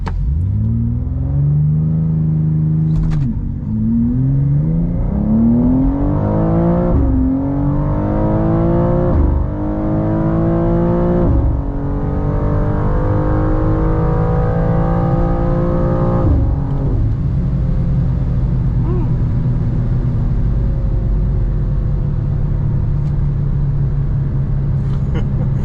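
A BMW M2 G87 with a tune launches in second gear and accelerates hard, its engine loud and close as the pitch climbs steeply through several upshifts with brief dips between gears, then settles into a sustained drone.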